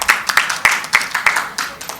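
At a gynaecology and fertility awards ceremony, sparse hand claps ring out in an uneven rhythm, about half a dozen distinct claps close by rather than a full roaring ovation.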